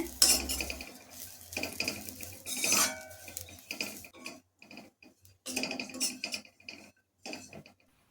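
Fresh grated coconut is roasted in a kadai while a spoon scrapes and stirs it, producing irregular close metallic clinks and scraping bursts separated by short quiet gaps, with no talk.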